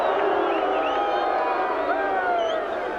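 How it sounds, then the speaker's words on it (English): A stadium crowd roars in sustained, loud cheering and whooping after a rugby league try in a 1990 New Zealand versus Papua New Guinea test match, with faint commentary voices in the mix. "The crowd roars."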